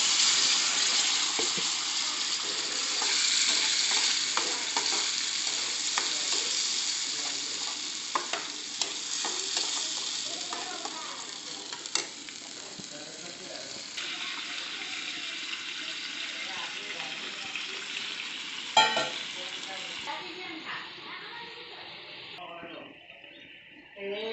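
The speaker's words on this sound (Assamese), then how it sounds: "পালেংখিনি মিক্সিত পিচি লৈছোঁ, এতিয়া দি দিলোঁ।" Ground spinach puree fries in a pan for Assamese-style palak paneer, giving a soft sizzle with repeated scraping and stirring strokes, fairly quiet and close, while a person talks over it.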